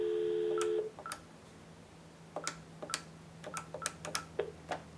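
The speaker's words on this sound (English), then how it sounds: "you can just dial your outside number." A steady dial tone on an Iwatsu office phone cuts off, then a series of short touch-tone keypad beeps follows at an uneven pace as an outside number is dialed, close and fairly quiet.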